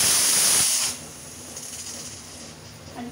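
A pressure cooker holding moong dal lets out a loud, close hiss of steam that lasts under a second and then dies away, leaving a low background hum.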